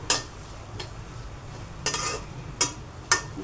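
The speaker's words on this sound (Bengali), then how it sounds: "এই যে ফুড কালারটা দিয়ে আর একটু ভেজে নেব।" Papaya zarda with orange food colouring fries in a pan under a low hiss. Four or five sharp scraping strokes of a spoon against the pan come at uneven intervals, with no talking.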